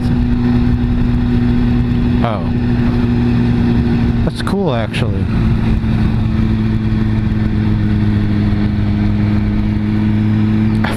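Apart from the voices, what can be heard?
moped passing by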